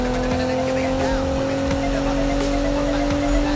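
A Nissan GT-R engine in the Need for Speed video game roars at high, steady revs, loud and close, with faint tire noise beneath the constant drone.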